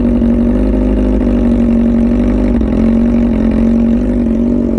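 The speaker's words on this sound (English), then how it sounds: "just this idle is so nasty." A Yamaha R6 motorcycle idles through a loud aftermarket exhaust, giving a close, heavy, steady rumble that throbs evenly for several seconds without any talk.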